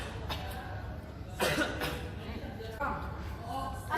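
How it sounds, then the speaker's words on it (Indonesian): A person coughs in a couple of sharp, close bursts, with soft talk and room noise in between. "udah berapa lama kau batuk?"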